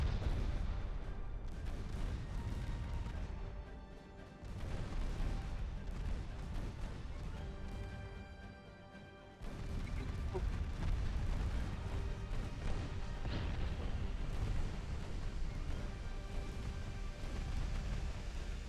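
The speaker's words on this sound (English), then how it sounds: "I can't have any more guns shooting at me." Naval gunfire between warships in the video game Ultimate Admiral Dreadnoughts, a dense, continuous rumble of booming cannon blasts with a brief lull, loud and steady throughout.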